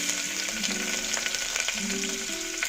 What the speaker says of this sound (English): I'm also adding a little bit of jeera seeds, which is cumin, and then I'm adding onions